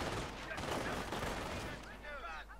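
Machine gun fire in a video game, heard as a dense, continuous rattle of rapid shots. It dominates throughout at moderate loudness, and a voice briefly cuts in near the end.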